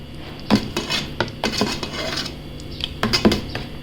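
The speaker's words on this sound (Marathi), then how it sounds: "साबुदाणा ॲड केला आणि मिक्स करून घ्यायचा आहे" Soaked sabudana stirred in a container, with scraping spoon strokes and sharp clinks of metal against the vessel in an irregular rhythm, close and moderately loud, no voices.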